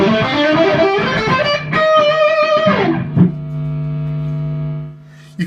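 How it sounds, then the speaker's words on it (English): Egnater Renegade guitar amp with gain turned all the way up: loud, heavily distorted chords that cut off and leave a sustained ringing note over steady hum and noise, ending with a brief pick noise. "you can hear that you've got a pretty obnoxious amount of gain going on. It is fairly noisy when you've got the gain up"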